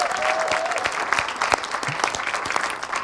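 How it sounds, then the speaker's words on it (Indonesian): Loud, dense applause from a studio audience on an Indonesian television show, continuous close clapping filling the short stretch without pause. "Tepuk tangan buat kita semua."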